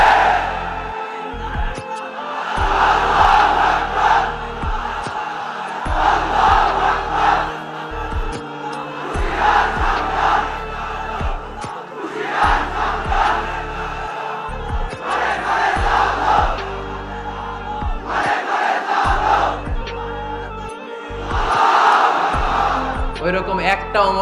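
A large crowd shouts back in bursts in reply to a preacher at a religious gathering, with loud surging roars and brief pauses between them, all carried over an amplified voice.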